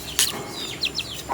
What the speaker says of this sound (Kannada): ಕೋಳಿ ಅದರದ ಮಕ್ಕಳನ್ನು ಕರೆಯೋದು, ಬನ್ನಿ ಮಗ ಬನ್ನಿ ತಿನ್ಲಿಕ್ಕೆ